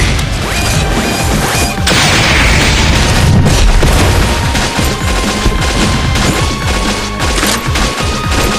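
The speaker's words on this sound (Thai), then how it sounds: "ได้เวลาสาดกระสุน" Gunfire crackles through a fight in Metal Slug: Awakening, with loud rapid bursts, booms and crashes piling up in a dense, continuous barrage, and nobody talking.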